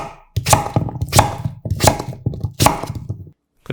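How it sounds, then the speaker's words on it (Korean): Knife chopping an old (mature) pumpkin into rough chunks on a cutting board, four heavy thudding strokes spaced about two-thirds of a second apart, close and loud with no talk. "늙은 호박 1kg 준비하고 듬성듬성 썰어주세요."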